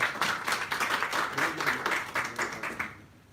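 Strong audience applause at an apartment residents' meeting, a dense burst of clapping from many hands that holds steady, then thins and fades out near the end.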